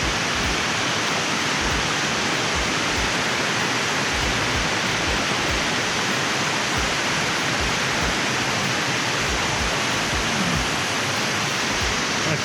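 Lesmurdie Falls waterfall in Lesmurdie Falls National Park near Perth gives a loud, steady, broadband rush of falling water close by, unbroken for over twelve seconds with no voices.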